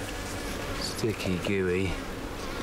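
Bees swarm and buzz in a dense, steady drone inside a bee's nest that also holds two snakes and a scorpion, with a voice talking briefly over the hum.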